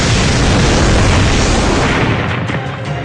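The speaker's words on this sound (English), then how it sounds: "The door to the church is blown off in a sudden explosion" Explosion blowing a church door off in a sudden blast, a loud sustained boom with rumbling debris that fades slowly near the end, no voices.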